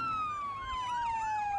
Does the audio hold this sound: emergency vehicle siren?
yes